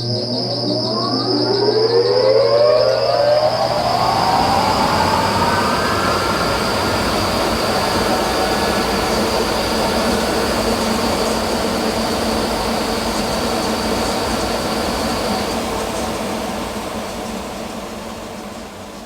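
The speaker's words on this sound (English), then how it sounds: "These are 2 of the Wurlitzer's 4 organ blowers. The organ blowers provide the wind that goes to the organ pipes." Two large blowers of a Fargo Theatre Wurlitzer organ spin up and run steadily, a loud continuous machine roar with a rising whine and a sustained high hum, easing off slightly near the end.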